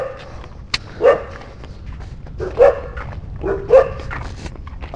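Several separate dog barks in rural São Paulo state, Brazil, spaced a second or so apart, fairly close, with small yips and some shuffling between them.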